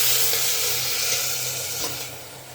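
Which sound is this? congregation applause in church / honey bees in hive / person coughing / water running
water running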